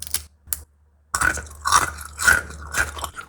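Close, crisp crunching bites into a crunchy chocolate-caramel cookie with a crisp exterior and chewy interior, four or five loud crackling chews in a steady rhythm after a brief pause, no talking.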